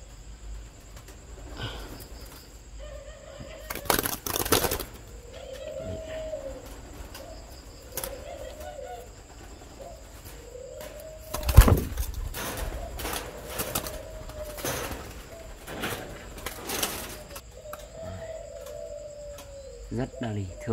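Spotted dove cooing repeatedly outdoors, soft rhythmic coos recurring every second or two over a steady insect drone, with a few louder bumps and wing-like flutters between calls.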